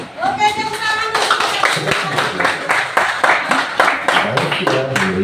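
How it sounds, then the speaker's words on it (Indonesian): Schoolchildren in an Indonesian classroom clap their hands together in a dense, ragged burst, close and loud, with a rhythmic pulse running through it and voices mixed in. "Oke, tepuk tangan dulu"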